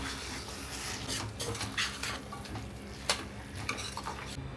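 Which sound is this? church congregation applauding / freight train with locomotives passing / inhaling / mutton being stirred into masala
mutton being stirred into masala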